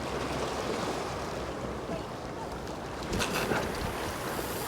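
Strong storm wind of 45 mph and more buffeting the microphone at Poole Harbour while fishing, a dense, continuous rushing roar with a sharper gust near the end.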